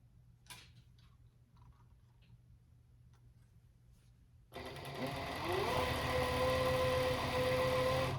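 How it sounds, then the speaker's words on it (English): After a few quiet seconds with faint handling noises, a sewing machine starts up close by and runs steadily, stitching fleece for a qaspeq. "I'm gonna sew this part down"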